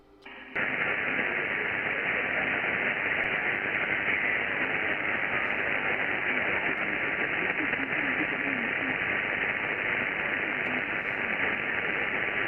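Amateur radio receiver hissing with steady, loud band static for several seconds, a faint calling station buried somewhere in the noise, with no clear voice standing out.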